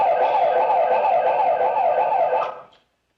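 A loud warbling alarm siren wails steadily up close, then cuts off abruptly near the end.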